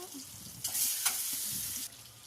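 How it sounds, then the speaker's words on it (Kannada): Boiled eggs frying in two spoons of ghee with chili powder on low heat, a close soft sizzle with brief louder bursts as they are stirred, no voices. "ಇದನ್ನು ಸಿಮ್ಮಲ್ಲಿ ಫ್ರೈ ಮಾಡ್ಕೊಳ್ಳೋಣ. ನೋಡಿ, ಈ ಥರ ಫ್ರೈ ಮಾಡ್ಕೊಳ್ಳಿ."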